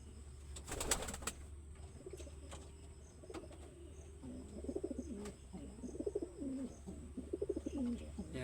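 Pigeon being treated for adenovirus, coos softly in repeated short bursts up close, with a few sharp taps and handling noises in a quiet room.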